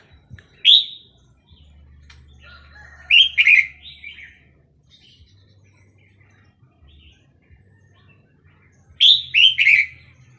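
Wild birds sing near a caged red-whiskered bulbul: short, bright chirping bursts come at the start, in the middle and again at the end. Between bursts there is near silence with a low background hum.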